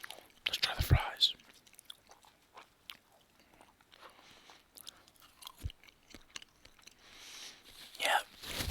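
Someone chews Canes fries close to the microphone in an ASMR mukbang, with soft wet chewing and occasional bites, quiet between louder bursts and faint whispered talk.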